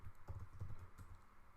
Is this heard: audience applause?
no